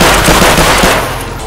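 Rapid bursts of gunfire in Escape from Tarkov, loud and dense with sharp repeated cracks, tapering slightly toward the end with no talking.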